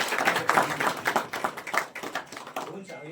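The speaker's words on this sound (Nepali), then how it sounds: "हुन्छ, ताली बजाउने छ।" A small group claps in rapid, uneven bursts during a wedding candle-lighting ceremony, the close sharp smacks continuing for about three seconds with voices murmuring underneath.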